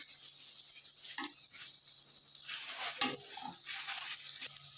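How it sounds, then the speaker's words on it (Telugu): A spoon stirs chilli powder into a sizzling curry base for Andhra fish pulusu, with faint soft frying and a few scraping clinks against the pan, quiet and close, without voices. "కారం యాడ్ చేసుకున్న తర్వాత మళ్ళీ దాన్ని కలుపుకోవాలి"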